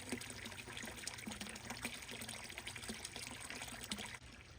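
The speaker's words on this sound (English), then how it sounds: "Water's flowing." Water flows and trickles softly and steadily, a quiet continuous splashing with no voices.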